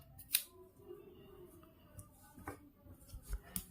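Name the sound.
scissors cutting embroidery threads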